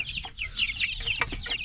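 Laying hens cluck in a short burst of several close, rapid calls over a low background murmur.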